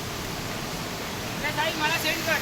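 Floodwater from heavy monsoon rain in Konkan rushes across a road, making a loud, steady broadband roar. Someone speaks over it toward the end.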